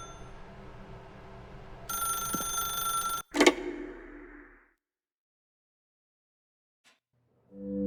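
A telephone in The Stanley Parable: Ultra Deluxe rings in a short electronic burst over a quiet background, then cuts off abruptly with a thump, followed by near silence.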